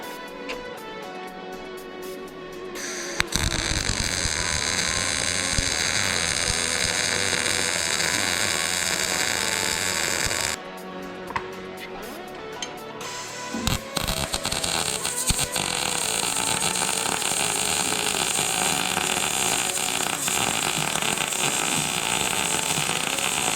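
MIG welding with a new welder, a steady loud crackling hiss that runs in long bursts with a brief pause between them, alone with no talk.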